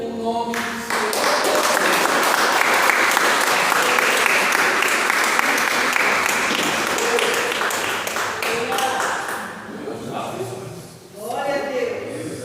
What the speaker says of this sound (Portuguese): E as palmas louvem o nome do Senhor